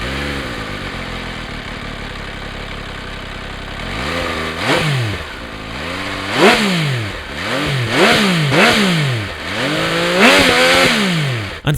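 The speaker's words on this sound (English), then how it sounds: "Euro 5 has also ruined the sound of it with this stock exhaust, which allows you to hear how gritty the engine sounds." MV Agusta F3 motorcycle with its stock Euro 5 exhaust, idling evenly at first and then revved again and again in sharp, gritty bursts that climb and fall, heard close up with no one talking.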